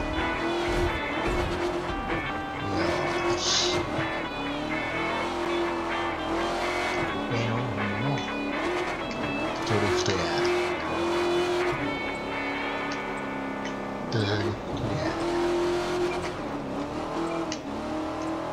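A car driving on a San Francisco outing, its engine humming and revving steadily and loudly throughout with occasional tire noise, and faint voices now and then.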